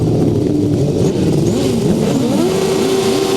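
Grasstrack racing motorcycles at a British Masters qualifier rev hard at the start, a loud dense roar of several engines with rising and falling pitches overlapping continuously, close and without pause.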